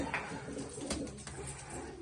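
Soft, low pigeon cooing rises and falls in a short burst, close and alone, with faint background rustle.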